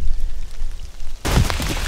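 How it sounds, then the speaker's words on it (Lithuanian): Rain begins falling during a weekend bottom-fishing trip, starting as a quiet hiss, then a sudden loud, dense patter of drops bursting in up close, with no voices. "Tradiciškai savaitgalį vėl prasideda lietus."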